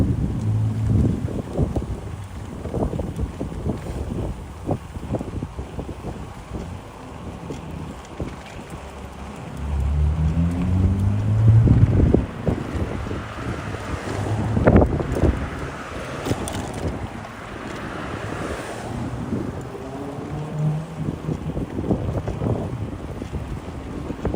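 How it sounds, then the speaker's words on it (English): Strong gusting wind buffets the microphone while cycling around Jamaica Bay in New York City, a continuous low roar that swells and fades, loudest near the middle, with occasional rattles and clicks from the bike. "This wind today is really no joke."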